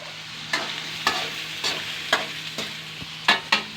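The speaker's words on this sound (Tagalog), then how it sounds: "halo-haluin lang" Cabbage and tomatoes are stirred in a pan, a utensil scraping in about seven distinct strokes at a steady rhythm over a faint background sizzle, close and clear with no voices.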